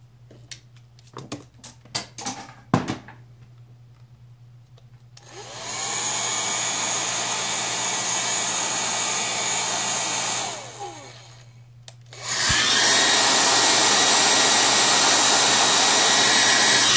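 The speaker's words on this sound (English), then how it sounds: "I'm going to show you with a hairdryer, which I'm sure most of you have" A hair dryer heating nail wraps roars steadily for several seconds, pauses briefly, then starts again just as loud, after a few quiet clicks and taps.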